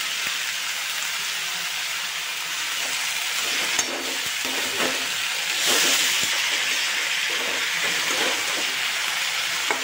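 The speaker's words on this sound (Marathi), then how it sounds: "आता आपण ते परतून घेऊ।" Mixed vegetables for a Bhogi Sankranti dish sauté in spices, giving a steady, close sizzle and hiss throughout, with occasional soft clicks and a brief louder surge of steam midway; no voices.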